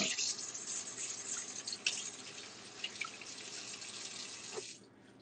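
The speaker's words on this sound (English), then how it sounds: "Just wash my hands." A kitchen tap runs steadily as hands are washed under it, a close, constant rush of water for several seconds that cuts off near the end, leaving quiet.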